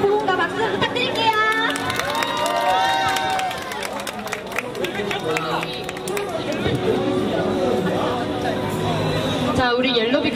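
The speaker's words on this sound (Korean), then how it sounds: "호응과 박수 부탁드릴게요." A street busking crowd in Hongdae cheers and shouts, with children's voices, chatter and scattered clapping mixing into a loud, continuous hubbub under and between talk.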